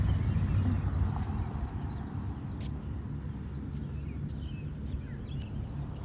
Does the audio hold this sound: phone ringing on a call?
no